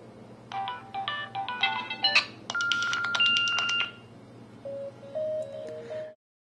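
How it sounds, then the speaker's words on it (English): Special AT&T ringtones on a Nokia Lumia 900 phone play as a run of bright, electronic melodic beeps and tones, close and clear, ending in a few softer notes with no talking. "You got ringtones. We have some special ones from AT&T."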